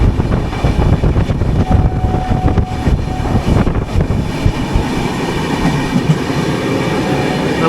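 The 22208 Trivandrum–Chennai AC Superfast train running at speed between Palakkad and Chennai, with a loud, continuous rumble and rhythmic wheel clatter heard from on board, and a faint squeal early on.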